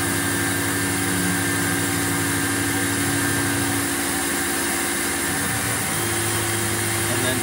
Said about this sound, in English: I'm gonna run just the last program, which is just contouring it out